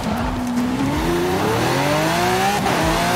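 A racing car with a Racing V12 engine in a video game, fitted with drag tires, winds up through rising gears, its loud engine note climbing steadily with a brief shift dip and tire noise underneath, with no voices.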